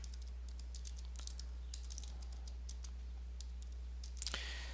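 Quiet, close typing on a computer keyboard, irregular bursts of light key clicks over a low steady hum, ending in a brief clattering flurry.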